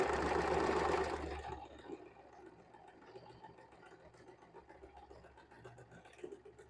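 A sewing machine runs a seam on a Dollar Tree dish drying mat in one brief louder burst at the start, then fades to a soft rattling hum.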